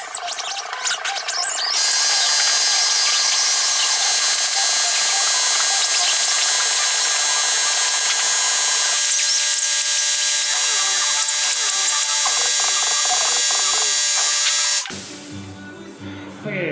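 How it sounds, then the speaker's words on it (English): A die grinder rounds off and deburrs sharp edges on a steel steering stabilizer bracket for a Suzuki Samurai, a loud sustained high-pitched whine with shifting tone as it bites the metal, cutting out abruptly near the end. "take my die grinder and I'm gonna round this out and take all the sharp edges off"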